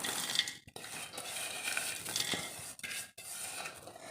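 Boondi being tipped into a bowl of spicy Kerala mixture and stirred, giving a dry, crisp rustling and scraping of crunchy fried bits tumbling against a dish, with a few brief pauses.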